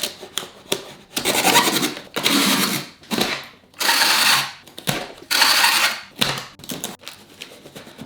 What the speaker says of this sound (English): When you shake it and you don't hear anything move, then you know that it is secure within the box.